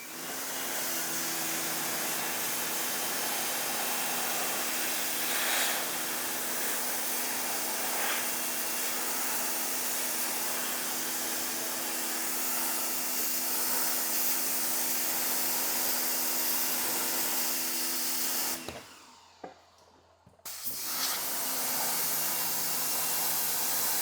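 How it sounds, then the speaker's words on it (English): An Etoolab 2000W electric pressure washer sprays a car roof with a loud, continuous hissing jet and a steady motor hum, cutting out briefly for about two seconds near the end before starting again. "Let's see if we can blow that off or blow that away with the pressure washer."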